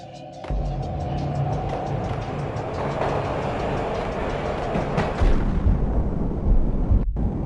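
A train rolls along the rails with a steady, loud rumble that continues throughout, swelling slightly near the end.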